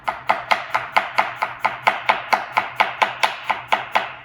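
A knife chops through an onion on a board in a quick, even rhythm, about sixteen crisp strikes in four seconds, close and loud with no talk.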